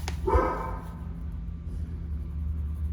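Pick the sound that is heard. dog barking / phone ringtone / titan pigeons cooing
dog barking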